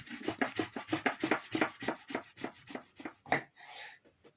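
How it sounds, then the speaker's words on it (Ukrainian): Fast, rhythmic rasping as a carrot is rubbed against a coarse grater, a dozen or so quick strokes that stop abruptly, close and fairly loud. "Моркву натираю на грубу терку."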